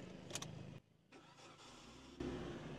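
A Suzuki Swift DLX engine cranks and catches close by in a short burst, a brief lull coming before the motor settles into a steady run.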